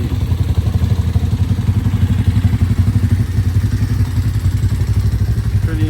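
Motorbikes ride along on a nature ride, giving a loud, steady, pulsing engine rumble that carries throughout.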